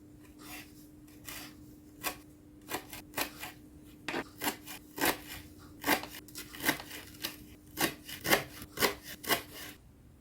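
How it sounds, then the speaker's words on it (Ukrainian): Knife blade chopping fresh green dill finely on a board, a rapid run of sharp, close taps in an uneven rhythm with no talking. "Отакий свіженький, зелененький кріп. Нарізаємо його дрібнисеньку-дрібнисеньку."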